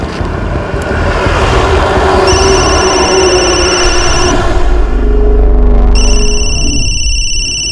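An electronic telephone ring sounds in two long bursts over a low, continuous rumble, loud and close, with no speech.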